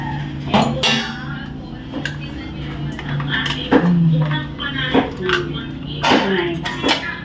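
A spoon scrapes and clinks against a pan while spaghetti sauce made with tomato paste and milk is stirred, giving repeated metallic knocks and scraping strokes close up, with speech in between.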